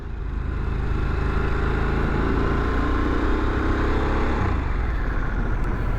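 A 2021 Harley-Davidson Sportster S with its Revolution 1250cc engine rumbling steadily while being ridden in sport mode, a constant loud drone mixed with wind rush.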